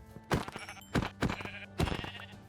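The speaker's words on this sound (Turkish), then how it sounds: "Vay arkadaş bir grup koyun spawnlandı." A group of sheep in the video game Minecraft bleats four times in a loose, uneven rhythm, each call short, loud and close, with no talking over them.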